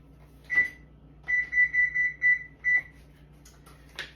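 An oven control beeps while being set to preheat to 325 for banana bread: one short beep, then a run of five quick electronic beeps and a sixth after a pause, clear and close over a low hum.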